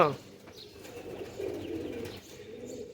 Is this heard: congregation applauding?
no